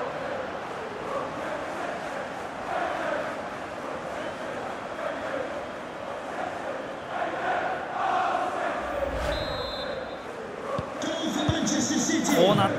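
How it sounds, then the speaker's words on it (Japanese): A virtual stadium crowd in the football video game FIFA 23 roars and murmurs in a sustained wash, swelling toward the end with cheers and groans under game sounds. "スタンドからは歓声とため息がこだまします。"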